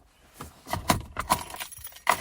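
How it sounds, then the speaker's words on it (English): Car keys jangle close by inside a parked car, a series of bright metallic clinks and rattles coming in uneven bursts, fairly loud against a quiet cabin with no talking. "Car keys."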